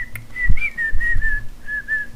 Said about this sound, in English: Whistle? Yep.